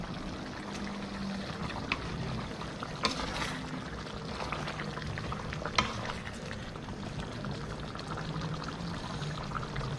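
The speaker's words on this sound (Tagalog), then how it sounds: "Ayan, kumukulo na mga ka-chubs" Continuous bubbling and hissing from a pot on the stove, with occasional clinks and splashes over a steady roiling boil.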